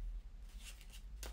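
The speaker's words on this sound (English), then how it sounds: "I'll just shuffle like this and just maintain the card on top," A deck of playing cards is shuffled on a table in a few quick, faint riffling bursts, soft and close against a quiet room.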